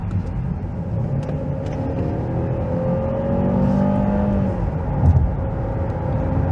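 A 2014 Opel Insignia 1.6 turbo petrol with automatic transmission accelerates at full throttle from about 50 km/h, its engine note climbing steadily, then dropping at a gear change, heard from inside the cabin.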